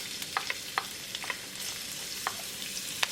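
Ginger and garlic frying with cumin in two teaspoons of olive oil in a karai: a quiet, even sizzle with scattered light crackles and spatters, close by and fairly soft, with no talking.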